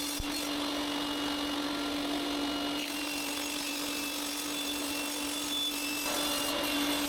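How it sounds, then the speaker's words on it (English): A power saw cuts small pieces of purpleheart wood for a kitchen knife rack, giving a steady, continuous motor whine and cutting noise that runs unbroken and fairly loud from start to finish. "Time to cut the pieces of purple heart."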